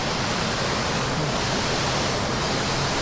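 Tagkuriring waterfall in Palawan, Philippines, pours in a steady, full roar of rushing water, dense and unbroken from start to finish with no voices over it.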